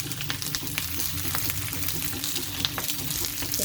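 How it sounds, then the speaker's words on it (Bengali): Bhetki fish paturi, leaf-wrapped parcels, sizzles in a frying pan with a continuous close crackle and scattered sharp pops, steady throughout with no voices. "সব বসিয়ে দিলাম ফ্রাই প্যানে"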